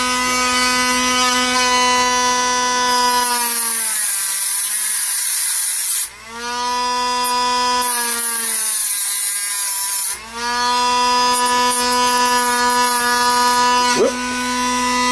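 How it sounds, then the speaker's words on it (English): A Dremel rotary tool cuts metal parts on a Thunder Maul during a MOSFET install, a loud high-pitched whine that winds down and spins back up twice across the stretch. "So out comes the Dremel."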